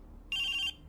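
A telephone rings with a bright electronic trill, one long burst followed by the start of another, fairly quiet and alone.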